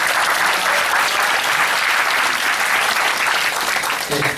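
An audience at a political lecture in Sangye-dong, Nowon, claps steadily and loudly, a dense unbroken wash of applause that tapers slightly at the very end.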